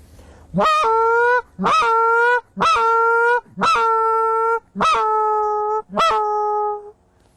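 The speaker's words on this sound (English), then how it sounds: "The moan is probably the deadliest call I've seen of all the calls on geese." Six drawn-out honking Canada goose moans blown on a goose call, evenly spaced and loud, each rising sharply then holding a nasal tone.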